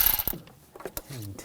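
A socket wrench ratchets a nut off the engine of a 2000-2006 BMW X5 3.0L inline-six, giving a short burst of close metallic clicking that fades into a brief mechanical rattle.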